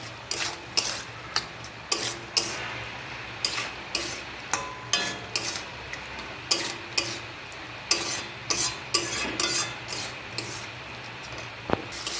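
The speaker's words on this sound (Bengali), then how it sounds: "জল দেওয়ার পর এবার এটাকে আর একটু ভালোভাবে কষিয়ে নেব।" Okra and potato curry is stirred and fried in a pan, a spatula scraping and knocking the pan in regular strokes over a constant low sizzle, close by.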